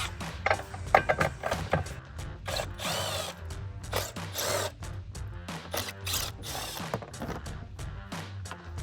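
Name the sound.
impact wrench removing 7mm fog light bolts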